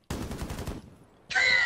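Gunfire in the video game Rainbow Six Siege, a loud burst of rapid automatic shots that cuts off. After a short pause a bright, ringing burst of sound follows.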